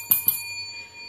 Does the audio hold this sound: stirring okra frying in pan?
no